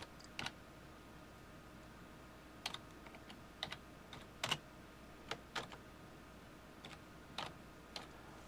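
Keystrokes on a computer keyboard come as sparse, quiet taps with irregular pauses between short bursts, heard alone in a quiet room.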